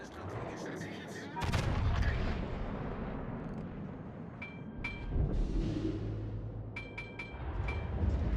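Battleship main guns fire volleys in a naval combat video game, with two heavy booming salvos a few seconds apart, each followed by a long rumbling roar and faint mechanical pings.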